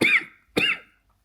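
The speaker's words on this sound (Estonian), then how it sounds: "Jõhker siukene aukuv köha" Two harsh, barking coughs in quick succession, close and loud, followed by silence.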